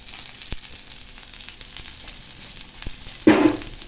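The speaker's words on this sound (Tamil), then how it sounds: "புளிக்கரைசலை நல்லா வடித்து ஃபில்ட்ரு பண்ணி இந்த மாதிரி நல்லா ஊற்றிக்கணும்" Strained tamarind water poured into a hot pan of tempered onions and chillies for rasam, with a low background sizzle, a couple of faint clicks, and then a sudden loud hissing burst near the end.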